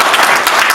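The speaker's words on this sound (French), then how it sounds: "je demande de l'applaudir très très très fort" A seated audience at a formal gathering of a Congolese university association applauds strongly, a short, loud burst of dense clapping without voices.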